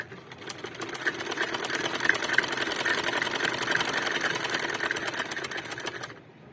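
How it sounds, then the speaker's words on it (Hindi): A sewing machine stitches a pillow cover in a steady, continuous whirring run of small stitches that lasts about six seconds, fairly close and loud, then stops abruptly near the end. "गुलाफ की ये वाली सिलाई लगाएंगे। ऐसे छोटी छोटी करके"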